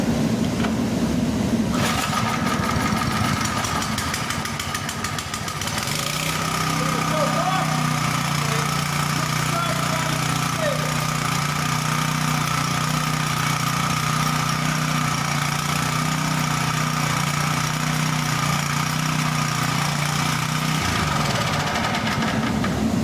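Toro small engine idling after reassembly, a steady low hum holding a stable speed for most of the stretch before cutting off near the end, with a voice talking over it.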